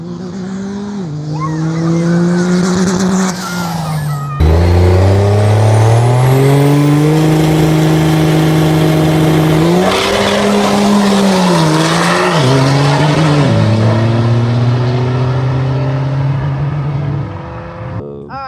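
Drag racing car making a pass, with a loud, close engine roaring through rising revs and gear changes, pitch climbing and dropping repeatedly over a sustained run before easing off.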